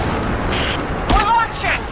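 A cannon fires in Rise of the Tomb Raider, one loud broadband blast about midway, set among game effects and background sound with a voice layered around it.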